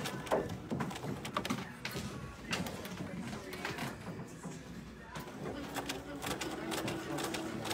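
A sewing machine runs as it begins stitching a seam on a fabric pouch, with a reverse stitch to lock the start. The hum is steady and moderately close, partly under a speaking voice.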